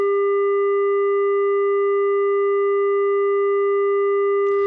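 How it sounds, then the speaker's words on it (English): Steady FM-synthesized tone raised an octave, made by doubling both modulation and carrier frequency, giving a pure sustained pitch with a few even overtones. It holds loud and unchanging, then stops abruptly. "it suffices to double the modulation frequency FM to raise the sound by an octave"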